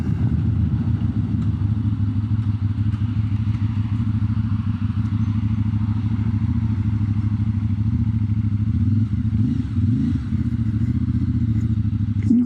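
A CFMOTO 450MT motorcycle idles and pulls through a tight turning circle, its engine a steady, close, loud drone with a brief swell of revs near the end.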